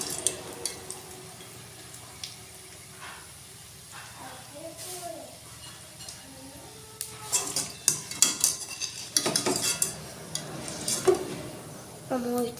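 Metal utensils clink and scrape against a pan as fried pitha cakes are lifted out, with soft sizzling, sparse at first and then busier and louder toward the end, and a voice speaking briefly.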